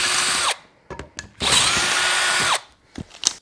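A power drill bores a hole just under half an inch across, in two long, steady whirring bursts separated by short clicks and handling knocks, close and loud with no talking.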